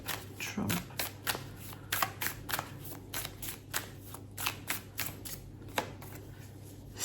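Playing cards are shuffled repeatedly at close range, a fast series of crisp riffling bursts and flutters in an irregular rhythm, with no voices.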